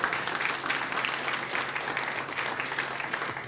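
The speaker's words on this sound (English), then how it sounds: "Give her a round of applause." A roomful of guests at a political dinner applauds steadily, dense even clapping from many hands filling the space at moderate volume.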